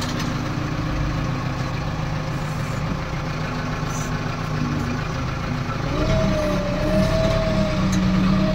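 A JCB machine's diesel engine running steadily while dozing earth on a farm plot, a continuous loud idle-like drone with a brief rising whine partway through, no talk over it.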